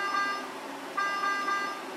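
A low NO2 pressure alarm on a medical gas delivery device sounds as a repeating electronic beep, clear and fairly loud, with two short tonal pulse groups separated by a brief gap.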